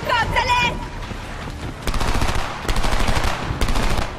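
Heavy gunfire in the Homefront video game, with loud bursts of automatic fire and shots repeating through a busy battle, some of them stacked close together.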